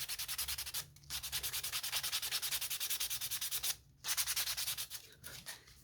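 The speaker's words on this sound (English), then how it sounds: "I'm just going to sand a little bit of that out" Wood is hand-sanded in a workshop, the back side of a piece rubbed with steady, rhythmic scraping strokes. The sanding is close and continuous, broken by two short pauses.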